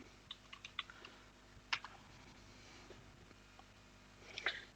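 Computer keyboard being typed on to enter an NSLookup command: a few sparse, quiet key clicks in small bursts with pauses between, close by in an otherwise still room.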